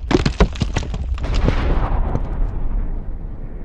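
A massive rumbling explosion depicting the Chicxulub asteroid impact, a loud deep blast with crackling bursts at the start that settles into a long roaring rumble and slowly dies down.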